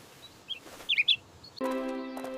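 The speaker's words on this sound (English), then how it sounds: "he saw a bird caught in a thicket and pocketed it too" A small bird caught in a thicket chirps in several quick, high tweets, fairly close, followed by a sustained tonal sound.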